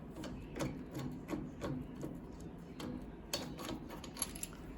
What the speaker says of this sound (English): So we unscrew the swivel fitting.